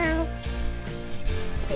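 A SpongeBob Gary the snail toy gives out a run of repeated electronic meows, three or four tonal cries in quick succession, loud and close.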